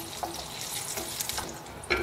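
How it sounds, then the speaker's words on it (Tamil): Urad dal frying in hot oil for a ridge gourd chutney tempering, giving a steady close crackling sizzle with a few brighter pops and stirring clatters. "இப்போ உளுத்தம்பருப்பு போடலாம். அது செவக்க வறுக்கணும்."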